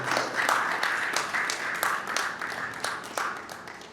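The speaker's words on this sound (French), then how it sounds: "on va encore l'applaudir pour l'encourager" An audience at a ceremonial gathering applauds a speaker coming up to take the floor. Sharp individual claps stand out over a broader wash of clapping that rises and ebbs in waves, with some murmuring underneath.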